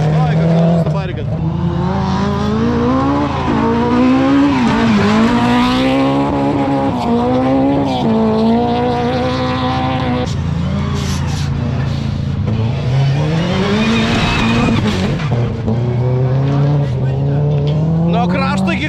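A rally car drifts on a gravel cup race track, its engine loud and close with revs rising and falling through long sustained slides, while people talk over it.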